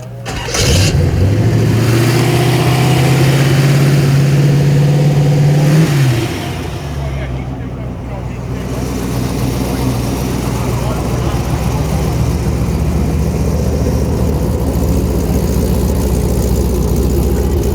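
A 1933 Speedstar Roadster cranks and fires up with a rising roar, then settles into a loud, rough, rumbling idle that runs on steadily. Voices are faintly audible beneath it.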